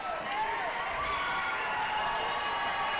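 Home crowd at a high school boys basketball game, Argos against Oregon-Davis, getting worked up: a steady wash of cheering and rising voices filling the gym, with commentary heard over it.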